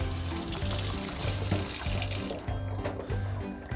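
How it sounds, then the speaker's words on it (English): A paint brush rinsed under a running tap, water gushing steadily into a sink with splashing and sloshing as the bristles are worked through the stream, heard alone and close. "Now you rinse."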